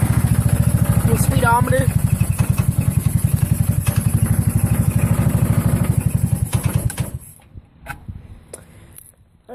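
A 150cc motorcycle sputters on a cold start with little fuel in the tank, its engine firing in rapid uneven pulses for several seconds before cutting out. A voice speaks briefly over it.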